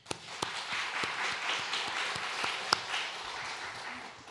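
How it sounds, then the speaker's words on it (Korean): A church congregation applauding during a service, a steady bed of many hands clapping with a few sharp louder claps standing out near the listener, holding at an even level throughout. "이희자 집사님께도 우리가 오늘 박수 쳤다고 말씀해 주세요."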